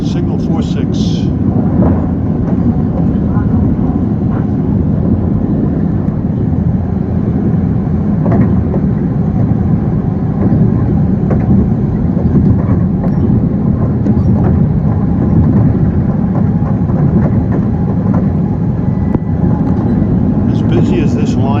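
An LIRR M7 commuter train runs near Penn Station and Jamaica, a loud, steady low rumble and roar that holds throughout, with faint squeals over the noise.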